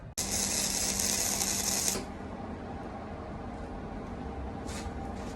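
Flux core gasless welding on thin 16 gauge metal produces a loud, steady buzzing crackle for about two seconds that then cuts off, leaving quiet shop background.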